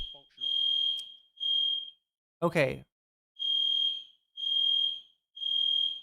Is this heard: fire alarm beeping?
yes